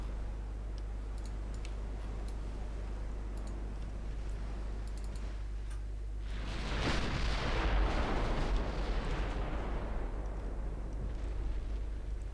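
Naval main guns fire in the video game Ultimate Admiral Dreadnoughts, a broad booming rumble swelling midway over a steady low background hum, with faint ticking earlier.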